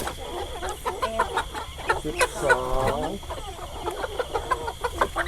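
Laying hens cluck and squawk in a busy farmyard during morning feeding, with a person talking over the flock's steady chatter.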